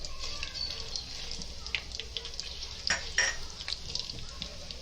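Whole garam masala and bay leaves crackle in hot oil and ghee as the masala for a cashew biryani starts. A soft, steady sizzle carries scattered sharp pops and spits, fairly quiet throughout.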